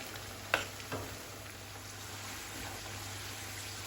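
A second batch of taro root (arbi) fries in hot oil, giving a steady, moderate sizzle with a couple of soft stirring clinks near the start.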